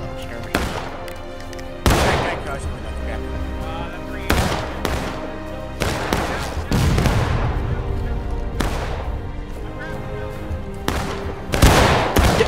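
Musket volleys crack repeatedly in the Civil War shooter War of Rights during a line battle, sharp reports and rolling fusillades at varying distances, with voices talking over the firing.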